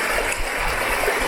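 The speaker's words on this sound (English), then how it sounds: "Just listen to the water coming out of Crater Lake and flowing down the mountain." Mountain stream flowing down from Crater Lake, a steady, close, broadband rush of water running without pause and with no voices over it.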